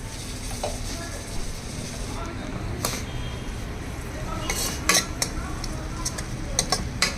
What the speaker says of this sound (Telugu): ఇదిగోండి చక్కగా అన్నబెల్లి పేస్ట్ వేగిపోయింది